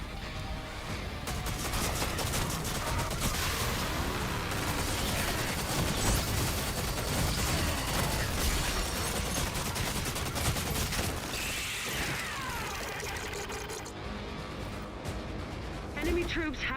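Heavy BFG blasts and dense gunfire in the Doom video game, a loud continuous barrage of explosive shots and crashes running throughout, easing slightly near the end.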